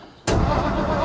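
A car engine abruptly bursts to life and revs loudly as gas is applied, a sustained broadband roar holding steady after a quiet start.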